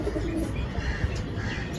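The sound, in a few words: Kaldam pigeon cooing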